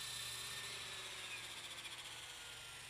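A Roban EC130 RC helicopter comes in to land, its steady high-pitched rotor and motor whine holding constant with a faint rhythmic beating, close and continuous with no talking.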